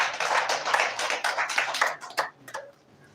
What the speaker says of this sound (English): Round of applause for him as he provides his lecture.